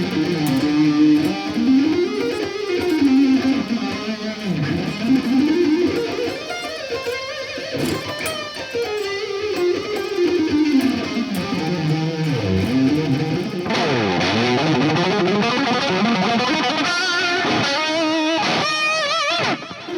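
Electric guitar run through effects pedals, playing a loud, sustained distorted line with sliding, bending notes throughout, no voices.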